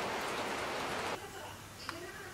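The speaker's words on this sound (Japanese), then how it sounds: "夜風を浴びに外に出たらなんと大雨です" Heavy rain pours outside a rental cottage at night, a dense, loud hiss of downpour that suddenly softens partway through into a steadier, quieter patter.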